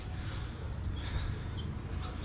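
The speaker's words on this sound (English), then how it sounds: "here's the famous barranquero andino, the bird that we see so much in the Andes Mountains" An Andean motmot calls in the Colombian Andes, brief chirping notes over a steady broadband background, fairly faint and distant.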